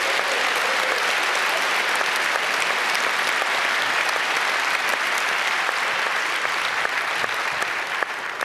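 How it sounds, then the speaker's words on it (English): A large hall crowd at the 29C3 closing event gives a big, sustained round of applause, a thick uninterrupted roar of clapping that stays level for the whole stretch. "A big round of applause, please."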